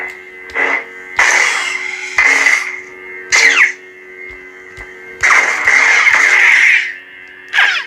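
A NeoPixel lightsaber hums steadily while repeated swings swell into bright, whooshing surges, some with sharp clash-like clicks, heard close and without talk.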